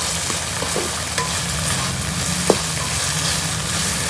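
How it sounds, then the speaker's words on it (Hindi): Onions and green chillies frying in a pan for a home-cooked chicken dish, a steady, even sizzle that holds throughout with a light stir or tap partway through. "प्याज और मिर्चें जो वो डाल दिए, तब इनको भी अच्छी तरह भून लेते हैं।"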